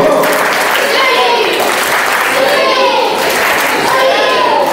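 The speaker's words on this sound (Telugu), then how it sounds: "Rocket claps go." Schoolchildren at a school first aid awareness session clap together while many young voices shout and chatter over the sound, giving a busy, continuous wash of applause and cheering.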